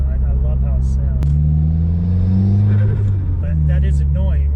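A car fitted with a Perrin pitch stop mount and Group N positive shift kit accelerates, its engine droning low and climbing in pitch through the gears, with a brief shift pause, while people talk.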